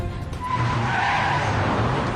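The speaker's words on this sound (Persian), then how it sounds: "خودروهای مظنون دارن نزدیک میشن" Tires skid and squeal loudly in a film car chase, a sustained screech over roaring engines, close and intense throughout.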